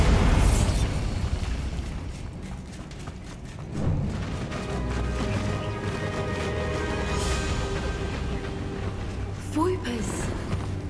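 Explosive spell blasts in Hogwarts Legacy, a loud burst at the start followed by another boom later and a rumbling game soundscape, with a voice talking over parts of it.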